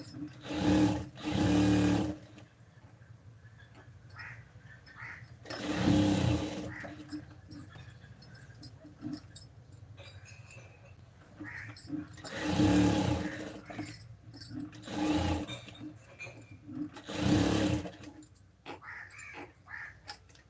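A sewing machine stitches a lining to a blouse piece in several short, loud whirring runs separated by pauses, with a faint hum in the background between runs.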